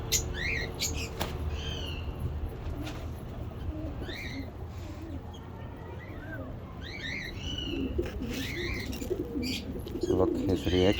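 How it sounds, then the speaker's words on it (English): Pigeon pairs in a large home aviary cage coo in low, throaty bursts, mixed with sharp chirps and squawks from other caged birds, under faint nearby talk. "Some pigeons."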